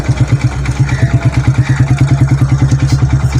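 A motorcycle engine chugs loud and near in a steady rapid rhythm of pulsing beats, holding an even pace throughout without voices.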